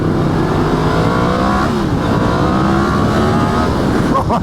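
A Yamaha FZ-10 motorcycle engine, started cold at a car meet, revs loudly and close, a dense continuous roar whose pitch swells and dips through several throttle blips without any pause or talk.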